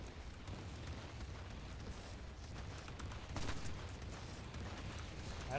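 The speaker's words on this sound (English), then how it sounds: "Enemy airstrike inbound." Explosions from an enemy airstrike in a video game make a continuous, dense rumble of blasts and crackling fire that stays loud throughout, with no speech.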